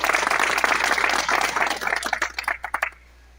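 A crowd claps at an Ambazonia Independence Day celebration: dense, loud applause at first, then thinning into scattered individual claps that fade to near silence by the end.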